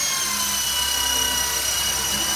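Steady, loud whirring whine from the spinning rotor of a brushless WLtoys V912B radio-controlled helicopter, constant and close throughout.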